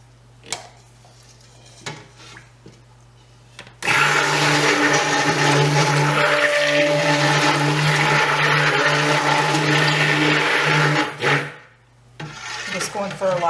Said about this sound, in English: The loud stick blender out.